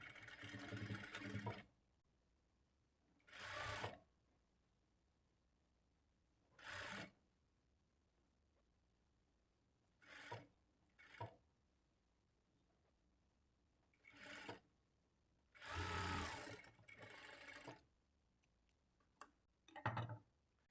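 A sewing machine stitches blouse lining in short separate bursts of rapid mechanical whirring, each a second or two long with quiet pauses between, up close and without talk.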